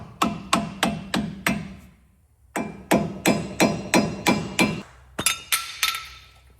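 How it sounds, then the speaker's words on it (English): Sharp metallic hammer strikes on an axle cap of a 2006 GMC Sierra truck ring out in two quick bursts of about seven blows each, close and loud, with a last few hits after a short pause. "we're just going to try to hammer it anyways"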